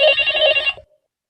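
A telephone bell rings loudly in a single short burst that stops abruptly, with no one talking over it.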